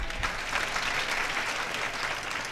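Steady audience applause from a crowd at a Ram Katha religious discourse, even and moderately loud throughout with no voices standing out.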